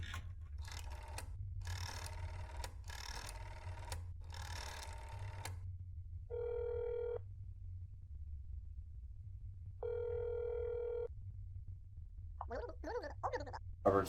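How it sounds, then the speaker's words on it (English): Dial tone and ringing in the video game That's Not My Neighbor: after a few keypad beeps, two steady electronic ring tones sound about three seconds apart over a low hum, clear and close. "I'm going to go to his phone number. 1, 2. Call."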